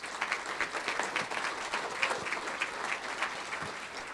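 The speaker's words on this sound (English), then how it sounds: "Let's give them applause" A roomful of people applauds at a real estate market forecast presentation, steady, evenly textured clapping heard from a moderate distance for a few seconds with no talking over it.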